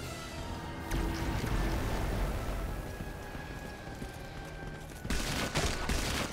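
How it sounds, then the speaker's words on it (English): Gunfire in the video game Swords of Gargantua, a continuous barrage of shots and booms with a louder burst near the end, under a steady game soundscape. "Why are you shooting at me?"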